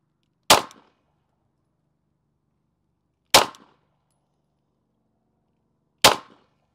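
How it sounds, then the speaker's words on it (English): Three 9mm gunshots from an MR920 threaded pistol with a 4.5 inch barrel, sharp loud cracks evenly spaced about three seconds apart with quiet between them. "now we're gonna shoot the MR920 threaded"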